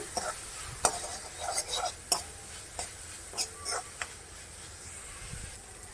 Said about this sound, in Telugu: జస్ట్ పచ్చివాసన పోయే వరకు ఫ్రై అయితే చాలు